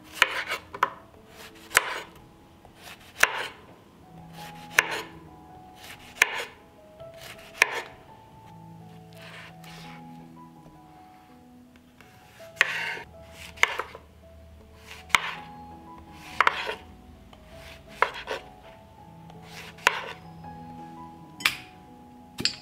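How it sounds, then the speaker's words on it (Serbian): Washed zucchini is sliced into thick rounds with a knife, producing sharp, close chops on a board that come in irregular clusters separated by short pauses. "Tikvice ću iseći na malo deblje kolutove."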